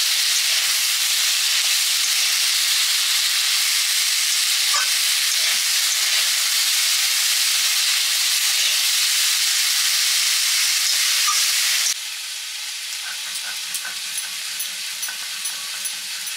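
Chingri greens hit a pan of fried potato and eggplant, setting off a loud, steady hiss of oil sizzling that drops abruptly to a quieter crackle with faint stirring near the end.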